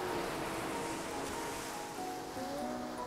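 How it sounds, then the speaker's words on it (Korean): Ocean waves wash along a shore in a steady, broad hiss of surf, loud and continuous throughout with no voices. "파도 소리 좋네"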